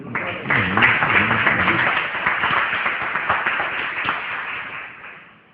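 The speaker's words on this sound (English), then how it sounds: "Y'all give a hand clap too." Lecture audience clapping hands in a hall, a dense sustained round of applause that holds steady then fades out near the end, with a voice briefly audible underneath.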